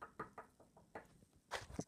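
Knocking on a door, a series of about five soft, evenly spaced raps followed by a couple of harder, louder knocks, quiet overall with no voices.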